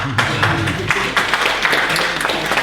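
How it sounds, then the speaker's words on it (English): Audience at an architecture lecture applauding, dense steady clapping from many hands at moderate distance, continuous throughout. "A round of applause, everybody."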